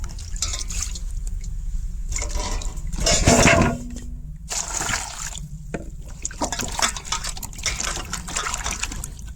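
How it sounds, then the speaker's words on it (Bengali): Water poured out of a container and changed while preparing crispy radish bhujia, splashing and gushing in loud close bursts with trickles and drips between pours. "জলটা ফেলাই দিন।"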